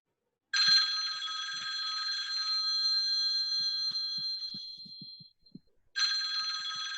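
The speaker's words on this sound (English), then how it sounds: "There is a telephone near her on the table. It suddenly starts ringing." A telephone on a table rings with a bright electronic trill, one long ring fading out, a brief pause, then ringing again, clear and close in a quiet room.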